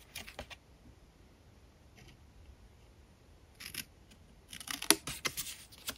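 Scissors snip through the folds of a paper Father's Day card. A few quiet cuts come early, then a burst of louder, sharper snips near the end, close up with no voices.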